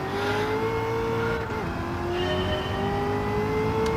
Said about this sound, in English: It just revs out down the straight